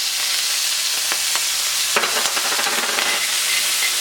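Ginger and garlic dropped into hot vegetable oil, sizzling steadily with a louder crackling burst partway through as the pan is stirred.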